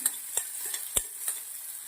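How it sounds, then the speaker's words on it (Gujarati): Cumin, garlic, green chilies and carrot sauté in a pan with a soft, continuous hiss and a few light spoon taps while stirring, no voices present. "જીરું નાખી થોડું થોડું લસણ થોડા લીલા મરચાં થોડું દેશી ગાજર થોડા કલરી મરચા પીંગલા થોડું સાંતરી લેશું"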